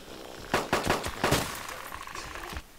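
Several sharp gunshots from the survival game DayZ crack out in a quick irregular burst, then trail off into quieter background sound.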